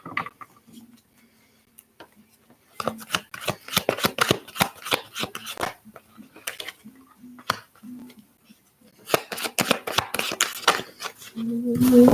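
Tarot cards are shuffled by hand in close, rapid riffling bursts with soft slaps and pauses between them, under a speaking voice.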